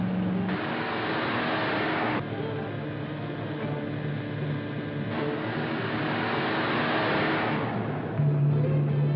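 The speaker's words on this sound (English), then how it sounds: "Notice how he picked up speed when he spotted us?" A 1940s car engine drones steadily and rises as the vehicle gathers speed, heard alone at a moderate distance with a dull, muffled tone.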